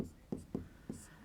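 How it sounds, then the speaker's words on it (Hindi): Chalk or marker strokes on a board during a Hindi-language maths lesson on statistics, four short, quiet scratches in an uneven rhythm, close by. "लिखेंगे यहाँ"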